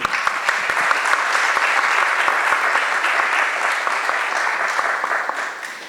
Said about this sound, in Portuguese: Eu quero pedir palmas para a Sabrina, por favor.